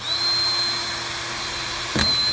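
A power drill drives a screw at close range, whirring steadily, with a brief sharp burst near the end as it speeds up or bites.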